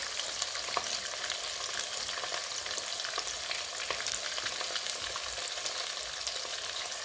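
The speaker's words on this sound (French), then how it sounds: "Et ensuite, je mélange le tout. Pour bien mélanger, voilà, jusqu'à ce que la tomate cuise." Tomato and fish sauce for thieboudienne, seasoned with garlic powder, pepper, salt and a bouillon cube, sizzles and bubbles steadily in a pot while being stirred, a close continuous hiss with small crackles and no talking.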